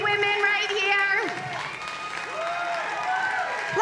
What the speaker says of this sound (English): Can we please give a big round of applause to these 3 women right here?